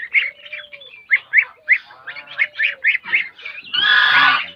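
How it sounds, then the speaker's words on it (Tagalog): Two month-old geese honk close by in a quick series of sharp, nasal calls, ending in one long, loud, harsh honk. "Ang dalawang gansa update natin."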